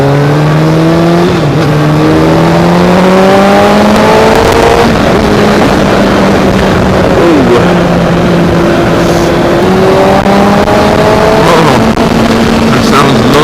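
Kawasaki ZX6R 636 sport motorcycle on a test ride, its engine loud and close, revving up through gears with rising pitch sweeps and shifts over constant wind rumble.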